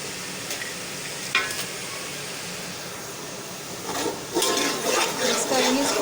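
Whole spices and beef being stirred together in a pot for Karachi-style beef nalli biryani, a steady background sizzle with scraping bursts of stirring, louder toward the end, alone without talk.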